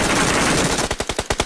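An MG3 machine gun firing in PUBG Mobile on the Erangel map, a dense loud blur of shots that breaks into a rapid, evenly spaced string of close, sharp rounds.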